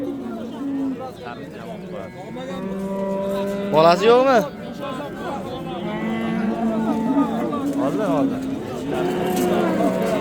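Cows moo repeatedly at a livestock market in Yozyovon, long drawn-out lowing calls, one louder and rising near the middle, while people talk nearby.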